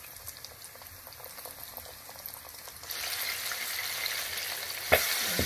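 Chicken wings coated in flour and cornstarch sizzle and bubble as they drop into hot frying oil, a low steady crackle that swells sharply louder about halfway through with a brief splash near the end.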